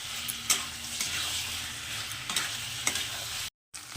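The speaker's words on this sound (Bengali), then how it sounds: "এখন আরও 7 থেকে 8 মিনিট আমি এটাকে এইভাবে মিডিয়াম আছে এটাকে আরও কষিয়ে নেবো একদম তেল বেরোনো পর্যন্ত।" Chicken kalia with fried potatoes sizzles steadily in oil over medium heat, with repeated spatula scrapes and stirring knocks over a continuous frying hiss.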